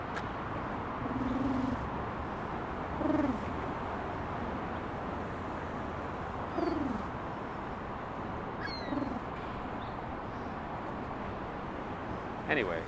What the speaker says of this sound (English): So the pigeons are right here.